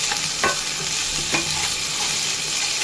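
Garlic paste and ginger paste fry with browned onions in a hot pan, giving a steady close sizzle with a few stirring scrapes and clinks of a utensil and no talking.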